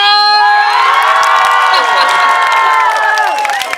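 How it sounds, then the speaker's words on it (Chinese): Outdoor seaside concert crowd screaming and cheering loudly, high shrieks and shouts piling up together in a sustained burst with no clear speech. "然后你们要尖叫声哦"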